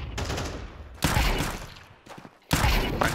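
Bursts of gunfire in a tactical shooter video game, three loud rapid volleys separated by short pauses, with a faint hum between them.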